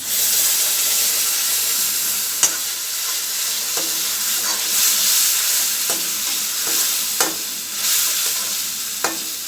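Steady loud sizzling and hissing from ground tomato puree in a pan, with occasional stirring clicks and scrapes, close up and without speech.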